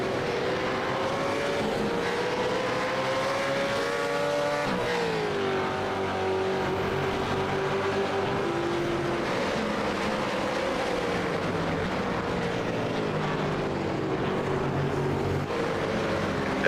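Several V8 Supercars race cars in a racing video game at Phillip Island drone with steady high engine whine, pitch dropping under braking and rising through a corner, loud and continuous with no talk.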